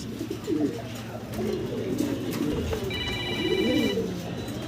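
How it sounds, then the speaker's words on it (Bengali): A pair of black Jacobin pigeons coo in low, repeated rolling phrases close by, with a steady background hum and a brief electronic beeping partway through. "আমরা দেখতেছি ভাইয়ের কাছে এখানে আছে একজোড়া হাউস জ্যাকোবিন কবুতর, একদম ব্ল্যাক কালারের ভিতরে জ্যাকোবিন"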